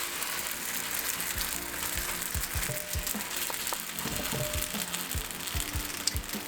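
Sourdough Turkish savory turnovers frying in a well-preheated pan give off a steady, close sizzle with scattered soft clicks and taps from handling, and no one speaks.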